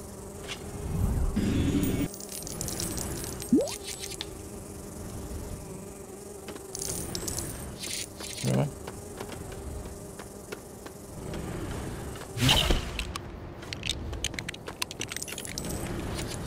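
Bees buzzing in the video game Lego Harry Potter, a steady insect drone with scattered louder buzzes passing close, underneath game sounds and occasional clicks across a fairly long stretch.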